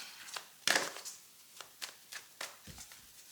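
Tarot cards are handled at close range. A sharp riffle-like burst comes first, then a series of soft, separate card snaps and slides spaced about half a second apart, with a low thump near the end.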